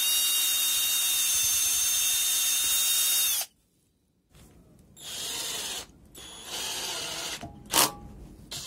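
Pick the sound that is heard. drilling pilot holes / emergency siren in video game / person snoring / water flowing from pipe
drilling pilot holes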